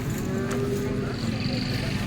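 A cow moos at the Modnimb cattle market in Solapur district: one long, loud, low bellow held for about two seconds over a steady murmur of the crowded market.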